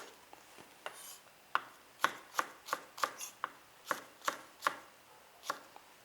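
Knife cutting potatoes on a board for a braised dish, with about a dozen crisp, fairly regular chops, close and distinct against a quiet background.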